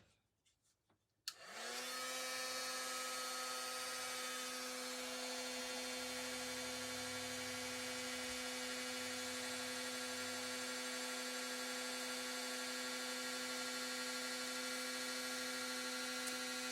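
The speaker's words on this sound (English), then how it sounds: "Get my heat tool out." A craft heat tool switches on after a few quiet taps and blows hot air with a steady, high whine and hum, held close and loud without a break to the end.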